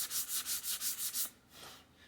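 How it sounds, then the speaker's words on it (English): Bondo body filler being sanded by hand on a custom-made tailgate handle for a 1996 Ford Ranger minitruck: about seven brisk, evenly paced rasping strokes, close and loud, then a softer scrape. "I just threw a coat of the old Bondo on there and let it set up, sanding away"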